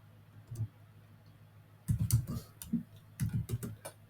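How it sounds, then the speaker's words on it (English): Typing on a computer keyboard, heard as close, crisp key clicks in short irregular bursts with pauses between them, and no voices. "I'm just typing it, thinking too hard."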